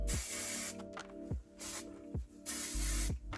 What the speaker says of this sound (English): I like this hairspray, but this don't smell good to me